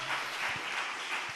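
A church congregation at a preaching service applauds loudly, a dense, sustained wash of many hands clapping at once across the whole short stretch.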